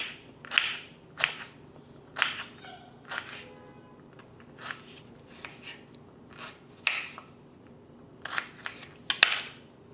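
Knife work on a strange finger-shaped citrus fruit, heard as a series of sharp, close cutting crackles and rubbing scrapes in an irregular rhythm against a quiet background.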